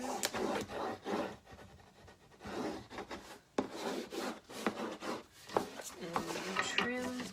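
Cardstock folded along a scored hinge line is scrubbed and burnished by hand, giving close, repeated rasping rubs in uneven bursts, with a brief voice near the end.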